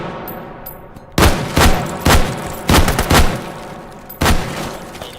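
Sharp precision rifle shots from a video game crack out loud and close, six blasts spaced irregularly over a few seconds, each with a short booming tail over low background noise.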